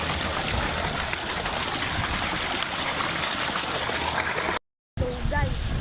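Water flows steadily at an outdoor bathing spot, a loud, continuous rushing and gushing close by, broken by a brief dropout near the end before the stream noise resumes.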